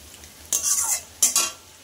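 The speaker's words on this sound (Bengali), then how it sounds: "দেখো পেঁয়াজটাও অনেকটা ভাজা হয়ে গেছে" Potatoes and onions fry in a pan while being stirred, giving two loud scraping strokes with a soft sizzle between, close up and with no talking.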